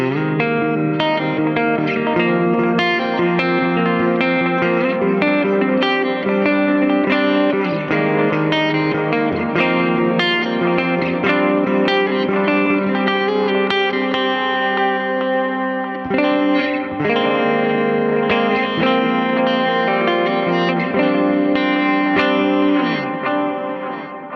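A GE250 guitar effects unit plays a guitar through its Cave reverb, sustained chords and notes blooming into a long, shimmery, cavernous wash, loud and continuous with a brief dip midway.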